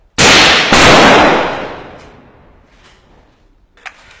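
A single loud gunshot fired by soldiers during combat in Marawi, a sharp crack followed by a long echoing decay, with a faint clank near the end.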